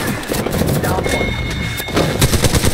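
Rapid automatic gunfire in the Apex Legends video game, season 3 Wraith gameplay, dense bursts of close, loud shots rattling almost continuously, with a brief lull in the middle before the firing picks up again.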